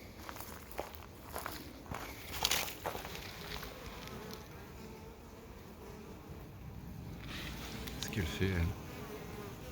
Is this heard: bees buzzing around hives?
yes